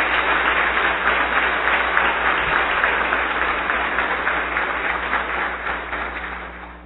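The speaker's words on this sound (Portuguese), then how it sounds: "Vossa Excelência é digno de todos os nossos aplausos." Sustained applause fills a city council chamber during a solemn session, dense even clapping from many people heard close and loud, slowly fading over several seconds.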